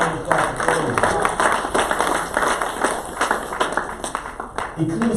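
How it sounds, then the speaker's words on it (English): A church congregation claps along in steady rhythmic beats during a praise service, loud and close, blended with crowd noise and voices. "give the Lord a hand clap"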